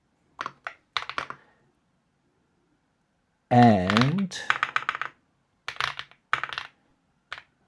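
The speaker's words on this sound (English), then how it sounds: "man, my typing." Computer keyboard keys clack in quick bursts of rapid typing, separated by short silences, with a brief spoken word near the start.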